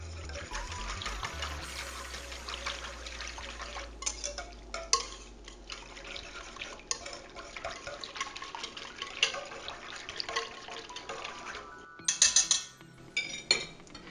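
Utensil scraping and clinking in a bowl as meat marinade is mixed for a grilled London broil, a steady close clatter with a few sharper clinks near the end and no talking.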